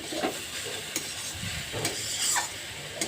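A spatula stirs a papaya dish with ground nuts in a pan, scraping and rustling in a few distinct strokes over a soft background sizzle, close and moderately loud.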